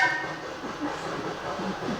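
Train passing during a stage theater production set on the prairie, a continuous rumbling, hissing roar with faint clattering, loud and steady throughout, no speech.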